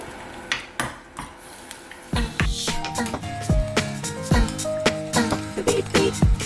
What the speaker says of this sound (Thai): เอาหมูไปรวนกับน้ำ